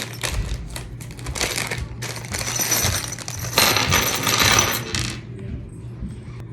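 Loose metal drawer-assembly hardware pieces clatter and jingle in a steady, close run of small clinks, with a louder rattling burst near the end before settling to a quiet hum.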